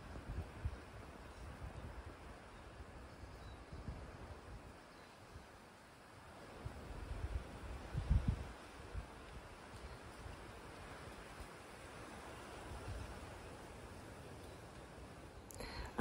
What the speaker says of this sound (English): I'm trying to capture the sound of the wind as it rolls around me